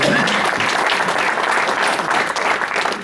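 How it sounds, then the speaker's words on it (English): A large audience at a Rotary club gathering claps steadily for about three seconds, the dense applause loud and sustained without letup. "So another big round of applause."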